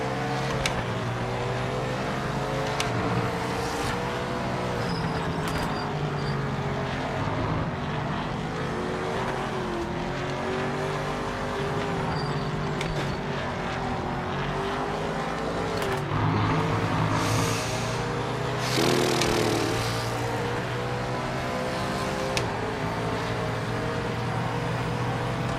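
An Aston Martin race car engine in a racing video game drones loud and steady, its pitch rising and falling through gear changes and corners, with faint tire squeal and no voices.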